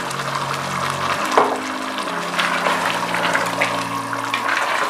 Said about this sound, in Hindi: अब मैं इसमें 1 गिलास पानी डालूँगी।